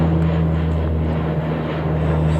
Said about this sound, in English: Now this is a propeller.